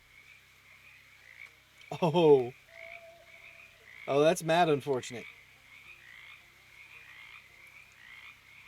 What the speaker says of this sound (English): There's all these frogs coming through the frog bog?